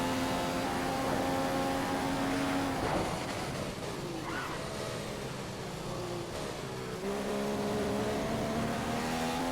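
A race car's engine holds a steady, high-pitched note with a brief dip partway through, then pulls hard again as it accelerates in a racing video game, loud and constant throughout.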